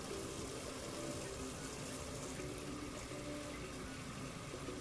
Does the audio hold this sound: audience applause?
no